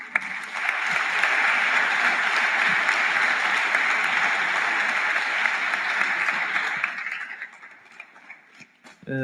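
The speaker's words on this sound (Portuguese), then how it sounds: "Convidava-vos então a dar uma salva de palmas ao João" An audience at a Catholic youth ministry evening gives João a round of applause: a full, sustained burst of clapping lasting about seven seconds, then tapering off into a few scattered claps.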